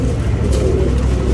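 A tournament pigeon in Bangalore coos close by, a low steady murmur over a constant background hum, with no speech.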